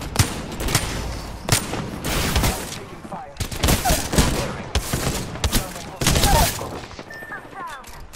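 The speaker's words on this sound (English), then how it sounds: "I am taking fire, friends." Rapid gunfire in the video game Apex Legends, dense bursts of close, loud shots coming in clusters over game effects, with a voice speaking briefly among them.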